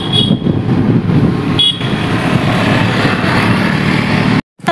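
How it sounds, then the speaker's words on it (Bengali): A scooter rides through traffic on the Visva-Bharati campus, a steady close engine and road rumble with brief horn toots from other vehicles, continuous until a sudden cut at the end. "বিশ্বভারতী ক্যাম্পাসের মধ্যে স্কুটি চালাচ্ছি।"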